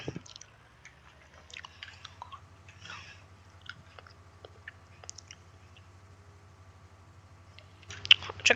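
Someone chews bread close to the microphone, with soft irregular bites, crunches and squishy mouth sounds over a low background hum, outdoors in a field, with no talking.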